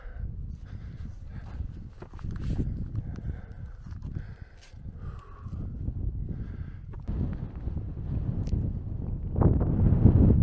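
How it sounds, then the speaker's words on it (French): Light wind blows across the summit of the Aiguille des Posettes near Chamonix, gusting softly against the microphone, with scattered footsteps and shuffling nearby. The gusts rise and fall unevenly and swell toward the end. "Il y a un tout petit peu de vent à nouveau"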